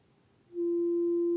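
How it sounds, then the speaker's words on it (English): Eurorack filter pushed into self-resonance with no input, a faint hiss giving way to a sudden steady pure sine tone that swells in and holds loud and unwavering to the end. "And then we're getting into a feedback loop that creates a sine wave. And this filter becomes a sine wave oscillator."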